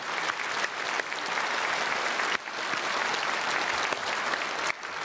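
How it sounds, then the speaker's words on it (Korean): A church congregation at a Sunday worship service claps loudly and continuously after a choir's hymn, a dense room-filling applause with only slight dips, and no voices stand out. "우리 크게 박수로 축복하겠습니다."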